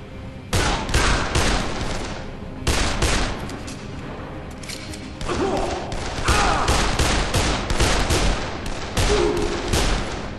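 Rapid bursts of gunfire from the Dead Island video game crackle in loud, repeated volleys with brief pauses between them, dense and continuous.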